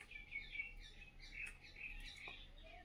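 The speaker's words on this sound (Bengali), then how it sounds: "তুমি দেখেছো কিরকম গরমের মধ্যে বাইরে পাখিগুলো কিচিমিচি করছে" Several birds chirping outdoors on a hot day, faint, high, scattered tweets and short calls at a distance over a low hum.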